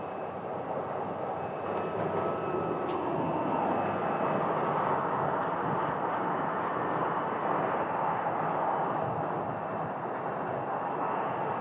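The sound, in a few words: Gulfstream G600 jet landing at Phoenix Sky Harbor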